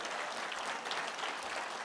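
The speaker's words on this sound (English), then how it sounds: "Please give them a big round of applause." An audience at a 50th anniversary celebration dinner claps for the wait staff, a dense, even round of applause that fills the whole moment with no voices over it.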